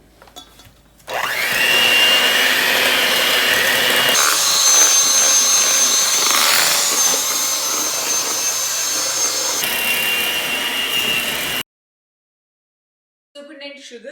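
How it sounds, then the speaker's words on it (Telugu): Electric mixer beating eggs and sugar for a chocolate cake, a loud, steady whirring that switches on, shifts pitch a couple of times while running, then cuts off, with brief speech after it. "సో 2 cups షుగర్ ఇందులో యాడ్ చేసి మళ్ళీ దీన్ని బాగా బీట్ చేస్తాను"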